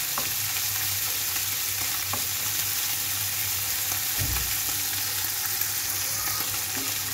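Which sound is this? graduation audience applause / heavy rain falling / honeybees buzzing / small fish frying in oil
small fish frying in oil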